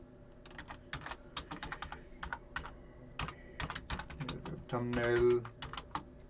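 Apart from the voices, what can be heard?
computer keyboard typing a prompt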